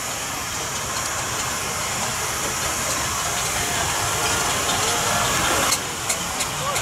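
A small steam tractor traction engine on parade around a show arena, giving a continuous loud hissing, chuffing rush of steam with a faint mechanical rumble, steady for several seconds before a brief dip and a few sharp ticks.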